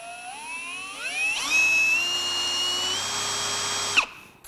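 RIDGID R86115 brushless 1/2-inch hammer drill spinning up through its speeds, a whine rising in steps and holding high before cutting off abruptly, close and alone.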